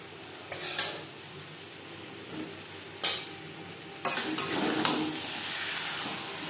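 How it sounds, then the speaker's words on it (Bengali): Fried potatoes being stirred into mutton fat and liver in a pan, soft sizzling with a few scraping knocks of a spoon against the pan, then a steadier frying hiss. "চর্বি ও মেটের সাথে আলু বেশ ভালো করে মিক্স করে দেবো।"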